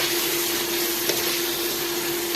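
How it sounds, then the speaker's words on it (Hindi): Spices with turmeric powder and crushed red chilli frying in a pan, a steady, even sizzle with a faint hum underneath and a single soft tap midway, close and continuous. "मसाले को हम अच्छे से भून लेंगे"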